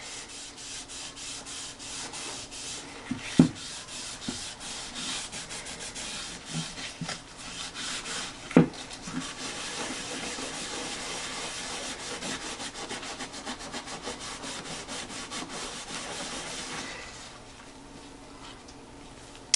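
Cloth rubbing leather dye stain onto a wooden guitar neck, a steady dry scrubbing with a couple of sharp knocks, continuing close until it fades near the end.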